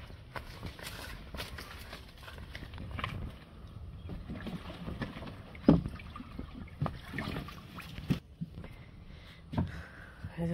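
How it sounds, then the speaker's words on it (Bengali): A village boat moving on water in rural Bangladesh, with irregular knocks and splashy bursts over a steady low rumble and faint wind, at close range and with no talk. "এই যে আমাদের নৌকা"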